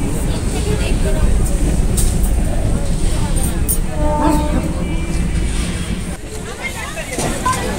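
Interior of a moving local train after boarding at Nungi station, steady rumble of wheels and carriage with passenger chatter and babble throughout.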